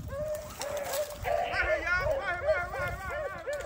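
A hunting dog barks and whimpers during a rabbit hunt outdoors, giving repeated yelps and whiny cries at moderate distance, with people talking throughout.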